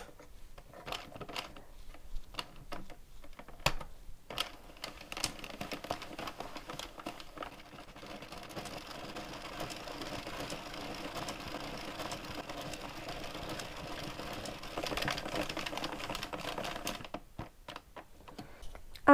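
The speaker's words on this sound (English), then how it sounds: "I'm just going to keep knitting my 18 remaining rounds for the leg of the sock" An Addi knitting machine cranks out sock rounds, giving a quiet, rapid, continuous mechanical clatter and ticking that runs steadily through the middle and stops near the end, with a few separate clicks before it starts.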